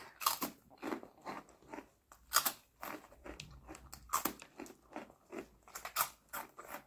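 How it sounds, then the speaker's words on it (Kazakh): A crunchy snack, chips or baby-food puffs, chewed close to the mic with repeated crisp bites and crackly crunches in an irregular rhythm, with no talking. "Рахат екен, қытырлатып отырады."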